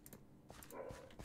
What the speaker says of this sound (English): if you can hear my dog barking